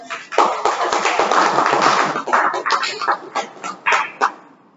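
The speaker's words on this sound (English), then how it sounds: "huge round of applause to Akta" An audience at a Toastmasters meeting applauds a speaker with dense, close clapping that thins into a few scattered, separate claps before stopping.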